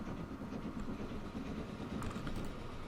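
Train running in the Transport Fever 2 game on a UK line, a continuous low rumbling roll with faint rhythmic clatter, steady and moderately quiet with no speech.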